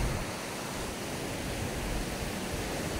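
Sea waves wash onto the shore in a steady, noisy surf wash, moderately loud, with no talking.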